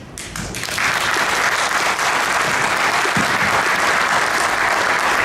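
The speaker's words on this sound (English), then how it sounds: "can we have a louder round of applause there?" Indoor audience at a BICSI Middle East talk breaking into applause, a dense wash of many hands clapping that builds within the first second and then holds steady and loud, alone without speech.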